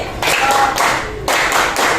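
Children in a classroom clap together in a rhythmic clapping game, loud close bursts of group claps grouped in a steady pattern with short gaps between.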